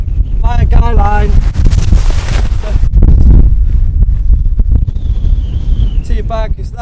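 Strong wind buffets the microphone at a freezing wild campsite in the English Lake District, a steady roaring rumble throughout with a voice speaking near the start and end.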